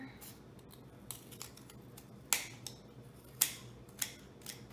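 Scissors trimming cardboard wheels for a rubber band racecar: a handful of crisp, close snips spaced irregularly over quiet room tone.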